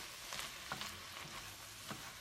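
Ground turkey browning in a pan for chili: faint soft sizzling with a few stirring scrapes, quiet and steady, with no talk.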